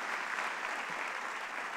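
Audience applause at a launch speech event, a steady wash of many hands clapping heard faintly from a distance without any break.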